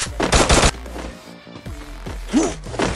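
Rapid automatic gunfire in the Free Fire battle-royale game, a loud close burst of quick shots up front, then scattered thumps and lighter shots with game effects.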